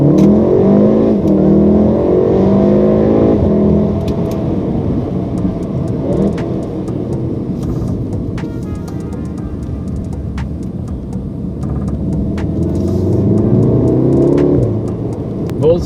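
A 2016 Volkswagen Golf R MK7 hot hatch accelerates on a test drive, its engine a steady close rumble that swells and revs throughout, with a voice talking over it.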